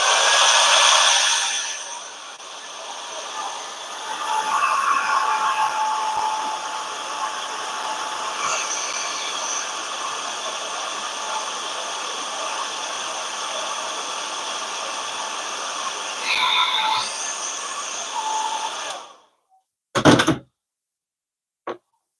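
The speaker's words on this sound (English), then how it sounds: "it's not a heat gun, that's just a hair dryer" A hair dryer blows steadily and close by to warm thickening clear coat paint, a continuous broad whoosh with slight pitch shifts as it moves, cutting off abruptly near the end followed by a couple of short handling clicks.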